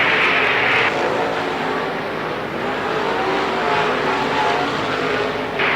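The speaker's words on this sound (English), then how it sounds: "Hear him spinning the tires as he came off of 4." A late model race car on the Lernerville Speedway dirt oval spins its tires coming off turn four in a slick middle groove, a loud sustained engine roar and wheelspin amid other cars, with no talk.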